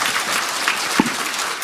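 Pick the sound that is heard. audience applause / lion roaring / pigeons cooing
audience applause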